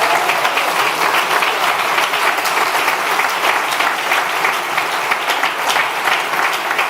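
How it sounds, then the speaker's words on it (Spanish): Dense, steady applause from a church congregation during a pastor's sermon fills the space, loud and continuous with no gaps, a wash of many hands clapping together. "démosle un aplauso al que nos lleva"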